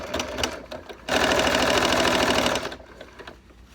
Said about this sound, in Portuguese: E eu vou rebater essa costura aqui.